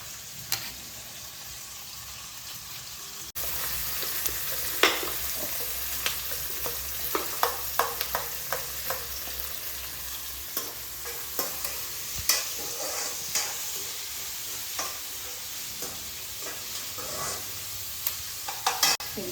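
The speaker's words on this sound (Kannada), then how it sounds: "ಸ್ವಲ್ಪ ಫ್ರೈ ಆಗಲಿ" Amaranth stems, dill and fenugreek greens with moong dal fry in a pan: a quiet start gives way to a sustained sizzle, punctuated by repeated scraping stir strokes, with no voices.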